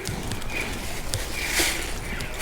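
A small horse pulling a cart at Bunratty Folk Park clip-clops along with steady, moderately close hoofbeats over a constant outdoor background, with no talking.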